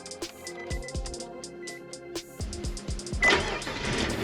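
A Nissan Frontier engine cranks over in short starter bursts and catches, settling into a steady idle with no belt squeal after a belt and pulley repair, loud and close.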